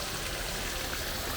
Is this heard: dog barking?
no